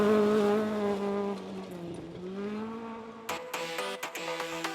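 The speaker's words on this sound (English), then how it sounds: "He's driving a Ford Escort Mark 1." A Ford Escort Mark 1 rally car at speed on a Grampian forest stage of the British Rally Championship, its engine note rising and falling through the gears, with a brief tyre squeal and gravel crackle toward the end.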